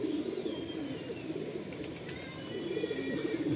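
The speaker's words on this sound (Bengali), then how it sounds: "পুরো পায়রার ঝাঁকটা দেখুন" A big flock of Madrasi pigeons wheels overhead at a loft in Bankra, Howrah, giving a steady, moderately loud rush of wing flutter mixed with soft cooing that lasts throughout.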